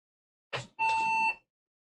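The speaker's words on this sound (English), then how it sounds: "Oh, wait, nope, it just beeped." Desktop computer beeping at startup after its motherboard battery was replaced; a short burst followed by a single steady electronic tone of about half a second, clear and close in a quiet room.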